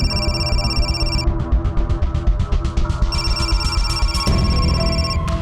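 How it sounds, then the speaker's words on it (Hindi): An electronic phone ringtone plays loudly and repeatedly, a bright warbling melody of rapid pulses and tones that shifts pattern partway through. "प्रकाश सर का फोन ह"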